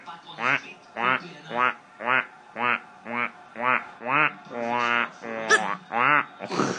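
A drunk man imitating a duck at a penguin, a voice making about a dozen rhythmic nasal quacks in a steady series, close and clear, with no other sounds.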